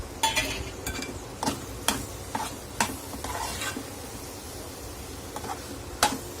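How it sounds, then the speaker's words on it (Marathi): Vegetables for a Solapur-style monsoon dish, radish pods with coriander, are stirred and sautéed in oil in a pan. Sharp, irregular spatula scrapes and clacks sound close over a soft, continuous sizzle. "आणखीन एक दोन मिनटं आपण परतवून घेणार आहोत"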